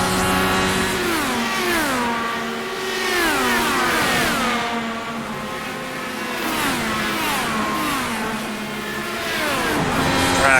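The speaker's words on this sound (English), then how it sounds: "Our car is peeling out the pit lane." IndyCar race car in iRacing accelerating out of the pit lane, a loud high-pitched engine climbing through repeated upshifts, each gear change a quick drop then rising whine, with other cars' engines layered close by.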